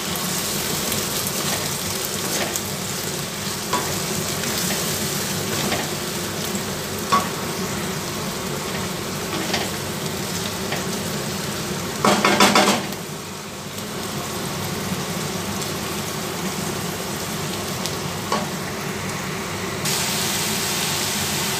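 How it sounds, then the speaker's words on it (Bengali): Onion paste fries in a pan as it is stirred, a continuous dense sizzle with scraping strokes and a brief louder burst partway through, close and steady, with no talking. "দেখতেই পাচ্ছেন আমার পেঁয়াজটাও মোটামুটি ভাজা হয়ে গেছে।"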